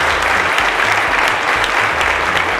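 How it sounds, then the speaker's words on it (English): Audience applause at the Cowbellpedia 2017 season finale award ceremony, steady and dense throughout the whole stretch, with low music or rumble underneath. "A round of applause for him."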